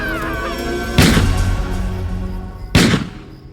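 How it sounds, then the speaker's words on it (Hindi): Two loud, sharp gunshot bursts spaced about two seconds apart in a Hindi horror story, each cracking over a low sustained ambient drone with no speech. "पलटकर उस पर फायरिंग कर दी"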